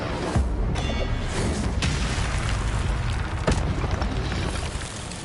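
The Incendio fire spell cast in Hogwarts Legacy produces a continuous roaring, crackling burst of flame with scattered sharp pops and whooshes, loud and sustained throughout.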